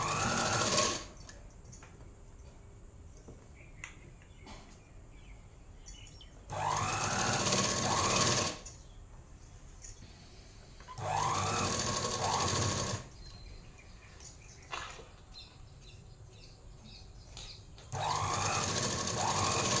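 A sewing machine stitches the neckline of a chudidhar top in several short, loud whirring bursts separated by quiet pauses with faint handling noises.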